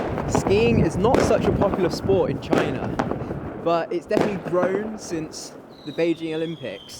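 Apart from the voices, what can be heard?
fireworks and firecrackers going off in a Chinese city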